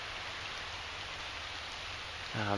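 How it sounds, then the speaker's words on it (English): Chilly outdoor rain falls in a steady, even hiss of fine drops, unbroken and moderately loud, with a voice starting at the very end. "it's raining, it's chilly"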